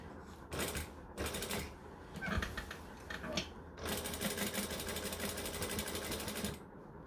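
A sewing machine free-motion quilts on a denim jacket, buzzing in short stop-start runs before one long continuous stretch of stitching.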